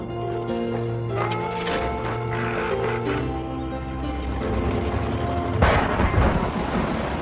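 Deep, rolling thunder from a fierce storm rumbles steadily for several seconds, then a sharper, louder crack breaks in near the end before the rumble continues.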